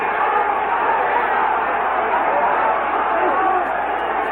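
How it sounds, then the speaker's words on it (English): A partisan German boxing crowd roars without a break at a fight between Muhammad Ali and Karl Mildenberger, a dense, loud wall of cheering and shouting that holds steady throughout. "the partisan German crowd is going wild because Mildenberger is being aggressive"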